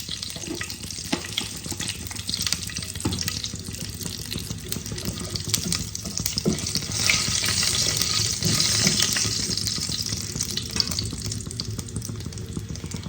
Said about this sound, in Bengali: দেখো আমি ওই তেলে দুটো তেজপাতা ফোড়নে দিয়ে দিলাম।